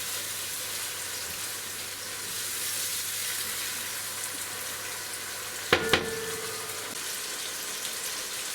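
Tomato with red and yellow capsicum sizzles steadily in a pan for mushroom pilau, a soft continuous frying hiss with one brief sharp clatter of stirring partway through.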